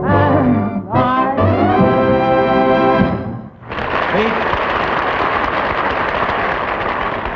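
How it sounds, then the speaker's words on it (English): A studio audience at a 1953 live television show breaks into broad, steady applause for a Buick commercial, the clapping starting right after a sung jingle ends and continuing loud and sustained to the end. "we get applause for commercials"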